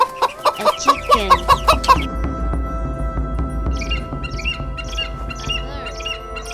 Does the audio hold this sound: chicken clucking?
yes